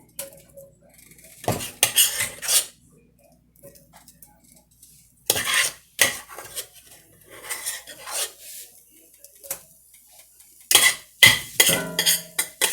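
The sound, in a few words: leftover mashed potatoes put into a heated pan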